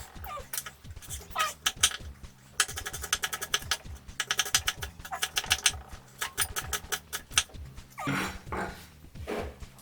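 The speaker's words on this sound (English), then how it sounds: "Ginger, and just cut it like this." A knife chops through fresh ginger on a cutting board in a kitchen, giving quick irregular taps and crisp rapid bursts of cuts, fairly close, with no one talking.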